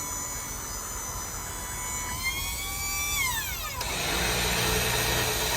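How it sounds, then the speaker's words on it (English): A winch on a 2012 Ford F550 4x4 mechanics crane truck runs with a steady whining motor. Its tone holds, bends, then slides down as it stops, giving way to a louder broadband mechanical rumble. "Winch works like it should."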